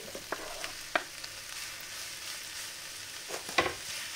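Minced meat tipped into a pan with softened onions sizzles quietly and steadily, with a few sharp clicks and scrapes from stirring, close by, and no talk.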